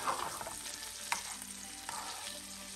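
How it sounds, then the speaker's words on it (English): Butter, garlic and thyme sizzle in a pan beside a nearly cooked steak, making a continuous close frying hiss with a sharp spatter or two, heard alone without talking. "add the butter, garlic and thyme in the pan"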